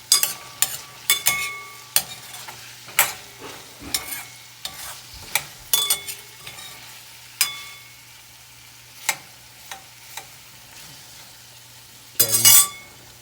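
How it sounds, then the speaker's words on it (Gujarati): A spoon stirs raw mango curry in a cooking pan with sharp, separate scrapes and clinks every second or so, and a low steady hum sits beneath. "વચ્ચે વચ્ચે આપણે કેરીને 2-3 થી 3 વાર આપણે હલાવીશું."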